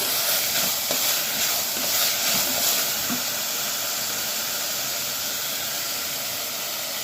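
A beetroot and soya mixture hisses in a hot pan, with a strong steady sizzle and a few clattering stirs early on, then settles into an even frying hiss.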